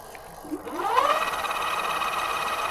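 Vtuvia ST electric bike hub motor at full throttle, leaned over with the wheel spinning, a rising whine that climbs in pitch over a second and then holds a steady high hum, moderately loud and close.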